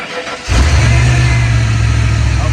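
Old Ford engine cranking and catching with its late-model alternator unhooked, a sudden loud low rumble that starts after a brief quiet moment and holds steady and close for the rest.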